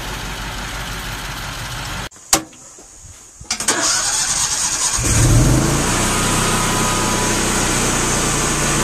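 A Cummins-Onan propane emergency generator engine cranks briefly, falls quiet, then catches and settles into a loud, steady mid-pitched running drone close by.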